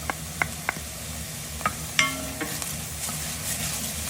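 Garlic fries with lightly browned onions in a pan, a low steady sizzle under several sharp spoon clinks and scrapes against the pan, close and fairly quiet.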